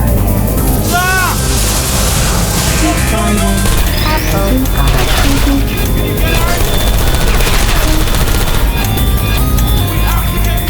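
Loud, rapid bursts of gunfire in Portal 2, a sustained rattling barrage that runs throughout with booming hits and voices mixed in.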